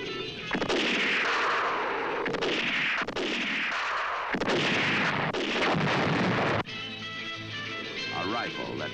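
A rifle and a pistol fire in a 1969 western film trailer as a run of loud, booming shots with echoing tails, several in close succession, over music and a voice.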